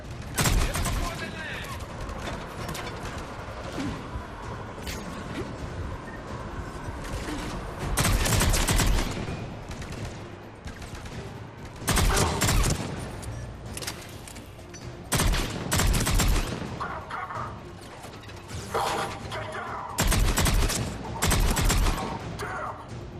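Bursts of machine gun fire crackle through a Mass Effect 3 battle, loud rattling volleys recurring every few seconds over a continuous din of combat noise.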